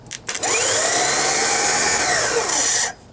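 An off-road winch motor spins up after a couple of short clicks, then whines steadily for about two and a half seconds with a slightly wavering pitch before cutting off, loud and close.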